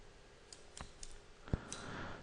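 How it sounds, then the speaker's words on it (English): A calculator's buttons are pressed in a quiet room, a few faint, sharp clicks spread over about two seconds. "I'm going to use a calculator"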